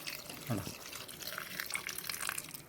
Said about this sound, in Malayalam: പാല് കട്ടി കുറഞ്ഞ പാൽ നമ്മൾ ഒഴിക്കുക.